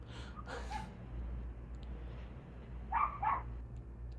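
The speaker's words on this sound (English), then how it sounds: "That's your dog barking, right?" A dog barks in the background, two short bursts of faint, distant barking separated by a pause, over a steady low hum.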